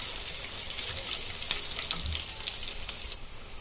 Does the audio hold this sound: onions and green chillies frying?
yes